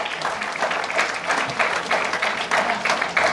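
Steady applause from a comedy club audience at the Madurai Humours Club, with claps blending into a continuous rhythmic patter throughout.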